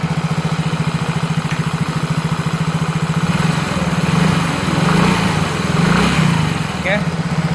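Yamaha XRD motorcycle engine with worn piston from neglected oil changes, idling steadily with a rapid, even putter and slight swells in loudness, close and continuous, with faint talk in the background.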